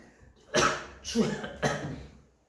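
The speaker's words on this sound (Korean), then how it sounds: "갑자기 기침 나오네" A person coughs three times in quick succession, close and fairly loud, each burst short and harsh against a quiet room.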